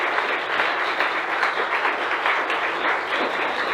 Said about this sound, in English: I'd like to ask everyone another round of applause because they've done a fantastic job here today.